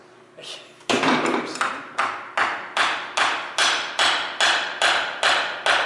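A hammer strikes metal again and again to knock a disc loose, about a dozen sharp ringing blows at a steady rhythm of roughly two per second, close and loud, each with a short metallic decay.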